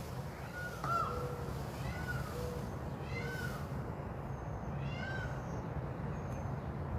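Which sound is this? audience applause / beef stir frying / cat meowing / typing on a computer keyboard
cat meowing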